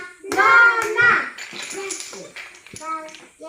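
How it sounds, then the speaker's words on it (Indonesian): Young children in an early-learning class clap their hands along to a sung Indonesian action song, the claps falling in short rhythmic bursts under loud singing voices. "Kalau kau suka hati, tepuk tangan."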